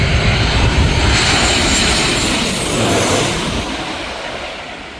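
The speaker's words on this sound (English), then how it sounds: "there's a Ryanair coming in from Milan" A Ryanair passenger jet arriving from Milan roars overhead on its landing approach to Skiathos, a loud broadband engine rumble that slowly fades as it passes and descends.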